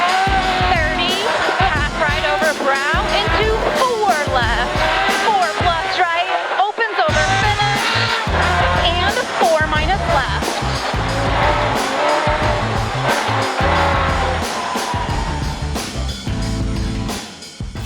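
A Ferrari V8-swapped Subaru STI rally car on a shakedown run, its engine loud and close with rapid revving and gear changes throughout, a brief drop near the middle, and voices talking over it.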